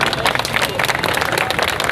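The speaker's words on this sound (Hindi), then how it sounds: "यहाँ तालियों पे पाबंदी नहीं लगा रखा है" A crowd clapping at a political speech, a dense and loud spread of applause that runs from start to finish with a voice faintly mixed in.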